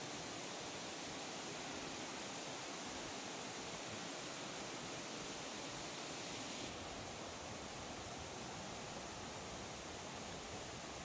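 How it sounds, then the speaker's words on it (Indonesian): Steady, dense rushing of a river flowing beside a road, a continuous broadband roar with no pauses and no voices. "Jalannya ini bersebelahan dengan sungai, jalannya jadi agak berisik, nggak kedengaran jelas."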